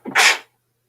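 A single quick human sneeze, close and sharp, with a short intake followed by a bright burst that cuts off into silence.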